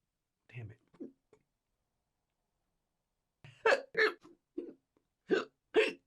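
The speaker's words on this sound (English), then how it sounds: "God damn. Hiccups." A person hiccups repeatedly at close range, with two or three small hiccups, a pause, then a run of sharper, louder hiccups spaced roughly half a second apart.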